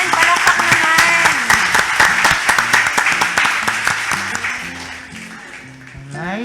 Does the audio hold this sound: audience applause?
yes